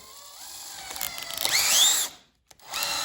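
A cordless drill is run in forward to tighten its chuck onto a bit, giving a rising motor whine with a ratcheting buzz that stops abruptly, then briefly restarts after a short pause; nearby and loud, with no talking.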